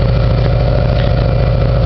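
A Subaru EJ engine idles steadily up close, a loud even rumble with a regular low pulse and no voices.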